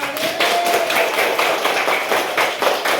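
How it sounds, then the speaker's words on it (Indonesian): Schoolchildren in an elementary classroom clap together for everyone, a brisk, fairly loud patter of many hands lasting a few seconds with faint voices beneath. "Tepuk tangan untuk semuanya."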